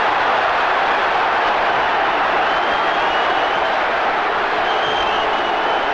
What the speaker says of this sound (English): The crowd rise in astonishment.